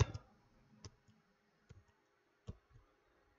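A computer keyboard key, F9, is pressed in a spreadsheet, giving a few sharp, separate clicks spaced under a second apart, close and clean in an otherwise quiet room.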